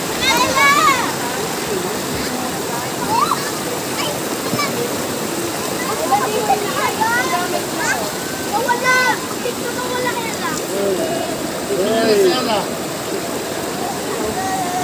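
Steady rushing river water in Tabaco, Albay, near Mayon Volcano fills the whole stretch, a continuous flowing roar with splashy texture, while voices talk and call out over it.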